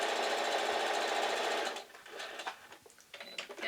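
A sewing machine stitches a quilt block, running loud and steady in a fast rhythmic whir for about two seconds before stopping, followed by quieter handling clicks and rustles.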